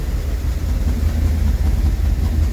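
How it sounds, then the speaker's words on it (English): An old Rolls Royce engine idles roughly, a loud, steady low rumble with an uneven throb, close up and without speech. "And it's idling weirdly, so I don't understand it."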